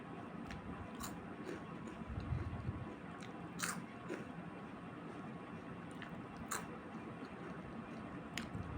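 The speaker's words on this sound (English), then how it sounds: "The crunch of kurkure," Kurkure snack being bitten and chewed at close range, a series of sharp, quiet crunches spaced irregularly over a soft background hiss, with no talking.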